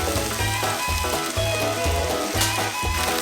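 Loud, continuous sizzling of food frying in a hot pan for maque choux, with a crackling texture and a faint rhythmic pulse underneath, close up.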